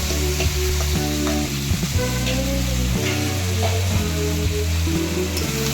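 Chicken meat stirred and fried over a low flame, with a constant loud sizzle and scattered stirring clicks, and steady tonal music playing over it throughout, no speech.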